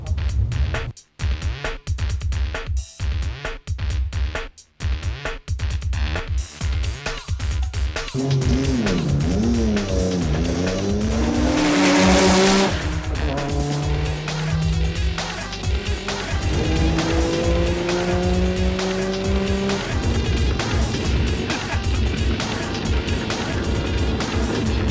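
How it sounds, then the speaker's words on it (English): Cars drag racing on a quarter-mile strip roar past loud and near, engines revving up through gear changes in rising, falling sweeps, with bursts cutting in and out early on and a steady mechanical din throughout. "a bunch of guys bring the cars down and just throw them up the quarter mile all day"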